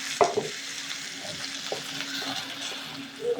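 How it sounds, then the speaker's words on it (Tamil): Ground onion and tomato paste being stirred into chana masala in a pan, with a steady low sizzle and a few scraping spoon strokes, fairly close and moderately quiet, with no one talking. "வெங்காயம் பேஸ்ட்டை இதில் கலந்துக்கலாங்க"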